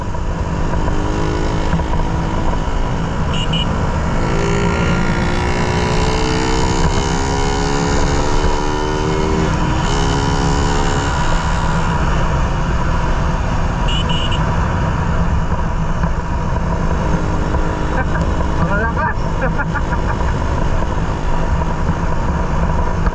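Suzuki Raider 150 motorcycle with a modified stock carburetor, engine running steadily and loudly up close, a continuous buzzing exhaust drone with slight pitch rises as the throttle is blipped.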